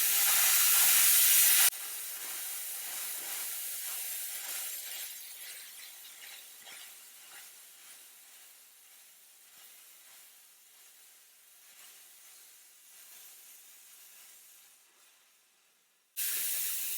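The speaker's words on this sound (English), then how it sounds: "So as we blow steam" A Chief 240-volt steamer blows a continuous jet of steam in a workshop, a loud close hiss that slowly fades over many seconds before cutting off, with a brief burst at the end.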